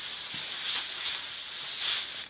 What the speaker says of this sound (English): Spray hair, medium hold hairspray.